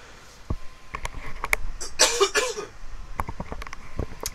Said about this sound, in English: Decided to take my headset off for that cough.